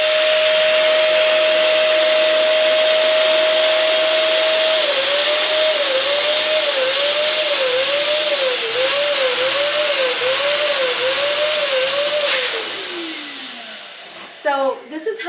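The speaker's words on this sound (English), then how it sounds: "What I'm going to do, as usual, is to inflate it once first, and then inflate it, and then deflate that, and then inflate it again." An electric pump inflates an 18-inch green Sempertex latex balloon with a loud, close, steady whirring drone. Partway through the pitch begins to waver up and down, then the motor winds down and stops, followed by brief handling noises.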